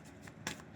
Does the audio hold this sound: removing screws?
no